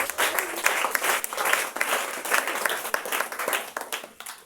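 Sustained applause from a church congregation praising Jesus during a service, dense clapping filling the room steadily from start to finish with a few louder bursts.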